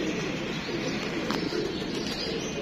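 A male and female pigeon pair coos in a steady, dense murmur over a constant background hiss, moderately loud and close, with a brief sharper click partway through and no talking.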